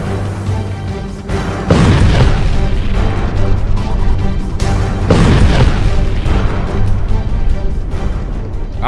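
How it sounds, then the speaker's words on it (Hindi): Two loud, close booming blasts, each followed by a long, dense rumbling roar that fills the whole stretch. "शांत पड़े इलाके में अचानक से एक बड़ा धमाका होता है"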